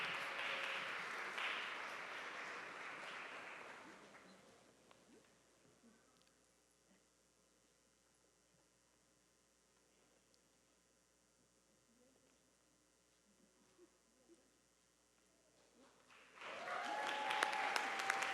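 Applause from the audience at a fall graduate commencement ceremony for Doctor of Education candidates, clapping for a few seconds that fades into near silence with faint hum, then swells again loudly at the end.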